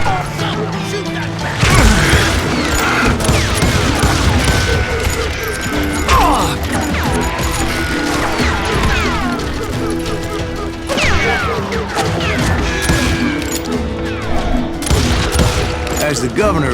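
Gunfire in the Western video game Call of Juarez Gunslinger, dense and continuous volleys of shots, crashes and impacts filling the whole stretch, with shouted voices mixed into the battle.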